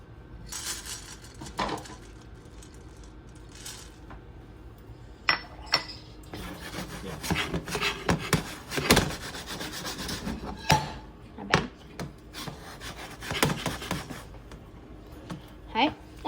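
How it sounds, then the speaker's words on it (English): Pine nuts are dropped into a pan on a stovetop, making scattered light rattles, taps and scraping clatters at irregular intervals, close up, with a person talking throughout. "So my stove is ready for the pine nuts. I'm just going to put some of these in."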